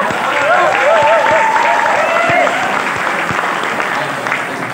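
An audience at a Maulid Nabi religious gathering breaks into loud, dense applause that slowly fades, with a voice speaking over the clapping.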